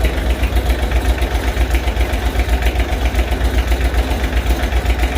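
A Daihatsu DM950G diesel in a Kawasaki Mule 4010 idles with an even, steady low chug and rattle, loud and close, running alone with no voices.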